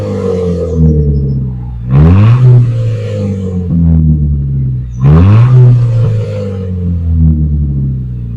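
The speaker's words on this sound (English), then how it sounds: "I am so happy with how that exhaust sounds" An Audi TT's back-box-delete exhaust with quad tips revved twice, each rev climbing sharply then settling back to a deep, burbling idle; loud and close.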